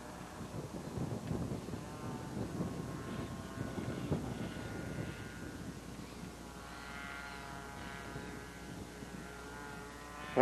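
A propeller airplane comes in to land in gusty wind: a faint, distant engine drone rises and settles beneath low wind buffeting on the microphone.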